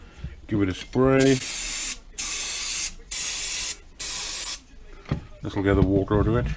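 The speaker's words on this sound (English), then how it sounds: "Give it a spray." Several long hissing bursts from an aerosol spray can onto the carburetors of a Yamaha Fazer 1000 motorcycle, close up, separated by short pauses, with a voice speaking before and after.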